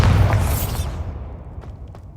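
A Bombarda blasting spell detonates in Hogwarts Legacy as a single loud boom with a broad rumbling burst, then a long decaying low roar as debris settles.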